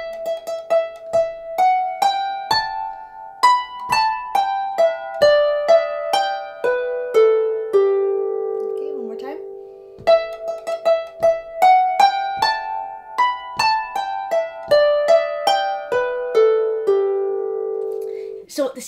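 Solo harp playing the second half of a tune, bright plucked notes in a steady lilting rhythm, close and clear, with the phrase repeated twice and no talking.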